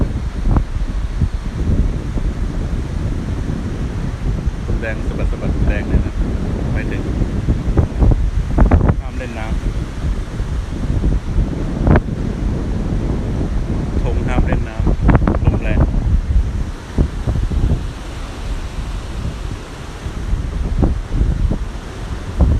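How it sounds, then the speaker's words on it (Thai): Strong sea wind blows across the beach at Koh Chang, a steady buffeting roar with crashing surf mixed in, loud and close to the microphone throughout while someone speaks over it. "ให้ดูว่ากระแสลมมันแรง"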